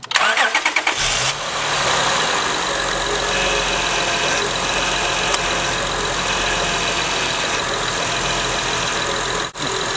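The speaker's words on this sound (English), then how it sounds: "start the engine, run the wheels back and forth several times to get that air out, to bleed that air out" An Acura/Honda car engine cranks with a few quick turns, catches and then idles steadily and loudly while the power steering is bled after a leak repair.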